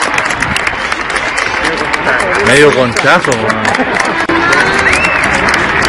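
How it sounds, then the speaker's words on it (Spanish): Crowd applause and cheering mixed with loud excited voices and shouts, a busy, raucous blend of clapping and chatter close by throughout, at a gathering of Chilean Army paratroopers. "Fuerte el aplauso, por favor."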